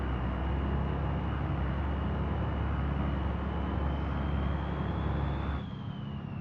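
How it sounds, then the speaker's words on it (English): A turbocharged truck engine in the driving game BeamNG drones loudly and steadily, with a rising whine that tops out and falls away near the end as the engine note drops. "Turbo does sound good in this truck."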